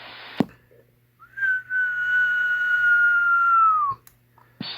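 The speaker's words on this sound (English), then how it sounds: "I'll give a whistle." A single sustained whistle, steady and clear, held for about two and a half seconds into the microphone of an RCI 2950DX CB radio on lower sideband at low power, bracketed by short clicks.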